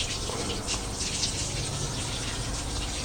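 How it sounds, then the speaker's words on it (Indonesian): Tap water gushes steadily over a DJI Mavic Air 2 drone motor to rinse out mud, a close, continuous splashing rush with no voices. "saya siram air dari keran langsung dengan harapan lumpurnya tuh pada keluar"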